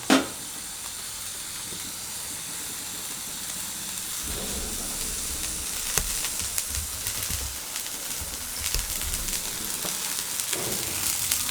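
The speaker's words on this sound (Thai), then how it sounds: "เราก็เร่งไฟแรงครับ ให้มันเดือด จนผักใกล้สุก" Vegetable broth boiling hard over high heat in a pot for Thai seafood rad na noodles, giving a steady hissing, bubbling rush that holds throughout with a few faint clinks.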